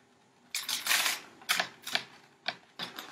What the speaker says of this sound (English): now I'm gonna pour the baking soda right into my funnel